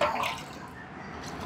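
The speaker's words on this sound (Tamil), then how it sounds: "தண்ணியை ஊற்றி" Water is poured over cleaned catfish to rinse the mud off them, giving a steady splashing, running-water wash that lasts throughout with no talking.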